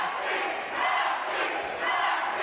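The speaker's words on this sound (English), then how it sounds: "You can hear the crowd inside Commerce Casino coming alive" A crowd cheers and roars inside Commerce Casino during a women's boxing match, a dense, continuous wash of voices that swells and rises in waves over a couple of seconds.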